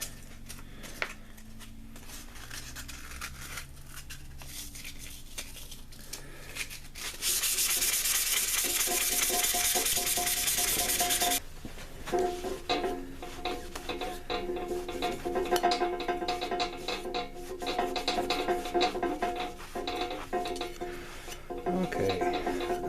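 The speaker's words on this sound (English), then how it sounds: "And you just sand. I'm starting out with a what is this, 320? Starting out with a 320 grit." A Schrade SCHF37 knife blade being hand sanded with oiled 320-grit sandpaper, heard as steady close rasping strokes, loudest in a sustained stretch midway, with rhythmic rubbing continuing and no talk.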